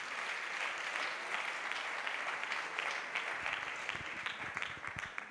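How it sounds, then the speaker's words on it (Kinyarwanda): An audience at a church gathering claps in sustained, dense applause that holds steady throughout before thinning slightly near the end, with faint voices mixed in. "reka dukomere Imana amashyi menshi"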